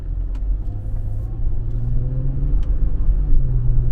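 A Mercedes-Benz car engine runs smoothly with a low, steady rumble and a mild rise in revs, heard from inside the moving car with no talking.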